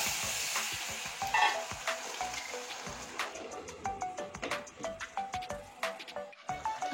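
Pumpkin greens dropped into hot oil with radhuni and chili tempering, frying with a steady close sizzle while a spatula stirs and scrapes in repeated clicks and knocks against the pan.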